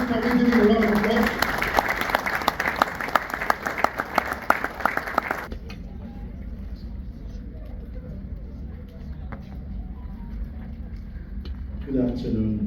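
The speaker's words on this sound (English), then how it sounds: "Please can we give him a round of applause?" A conference audience gives a welcoming round of applause for a company chief executive at an agriculture and real estate event, dense clapping that stops abruptly partway through, leaving quiet room tone before a voice begins at the end.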